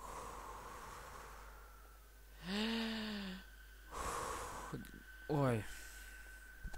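Heavy, drawn-out breaths and gasps in the horror video game SCP-087-B, three distinct strained breaths separated by pauses over a faint hiss of background noise.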